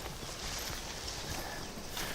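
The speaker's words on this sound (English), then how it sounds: "This is why we have horses in the first place." Steady clip-clop of horse hooves walking at an even pace, close by, over a broad noisy background.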